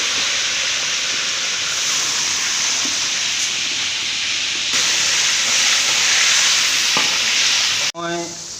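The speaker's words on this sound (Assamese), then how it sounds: "এইটো এতিয়া মই চিকেনটো তেলত ফ্ৰাই কৰি লৈছোঁ" Chicken pieces fry in hot oil for chicken masala, giving a loud, continuous hissing sizzle close by that runs unbroken before a brief clatter near the end.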